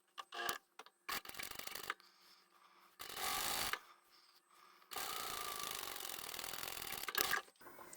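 A sewing machine top stitches along a fabric edge in short bursts of fast, buzzing needle runs separated by pauses and handling noises, the longest run steady for a couple of seconds, close by.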